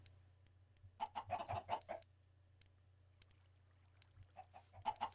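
Chickens in the video game Minecraft cluck in short bursts, a cluster early on and a few more near the end, over a faint steady low hum.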